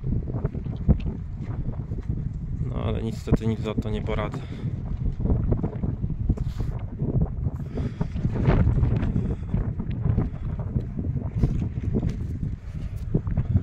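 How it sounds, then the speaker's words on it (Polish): Strong wind buffets a microphone outdoors, making a steady, rumbling roar. Someone talks over it throughout. "Strasznie wieje."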